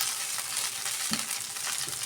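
Lentils are tipped into spices frying in hot oil, giving a loud, continuous close sizzle with a brief bump of stirring partway through.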